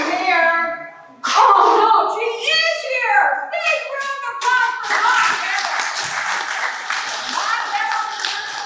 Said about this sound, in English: Big round of applause for Ma